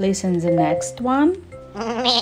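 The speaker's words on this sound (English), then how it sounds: "It's a sound of goat." A toy plays a goat's bleat, a wavering, nasal cry that rises and falls over a couple of seconds, mixed in with an adult speaking close by.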